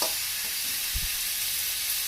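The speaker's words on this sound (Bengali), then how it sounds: "চালটা আমার অনেকটাই ভাজা ভাজা হয়ে এসছে" Rice frying in a pan gives a steady, fairly quiet sizzle throughout, with a brief low scrape or stir near the middle; no one speaks.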